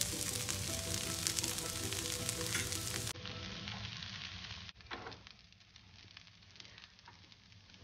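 A ghavan, a sweet Konkan-style milk pancake, sizzles in ghee on a pan with a steady loud hiss that drops to a softer crackle partway through.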